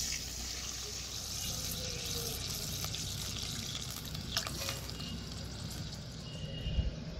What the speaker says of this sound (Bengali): আদাটাকে একটু ভেজে নেওয়ার পর এবার এর মধ্যে দিয়ে দিচ্ছি 2 বাটি মতো জল।